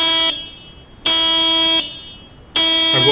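Horn of a Honda New Civic set off by the key fob panic button, blaring in three steady, loud pulses with short gaps between them, near and alone.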